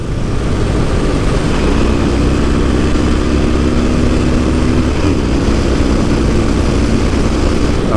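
A Harley-Davidson Sportster 48 motorcycle being ridden, with a loud, steady engine drone and a rising and falling rev tone mixed with wind rush.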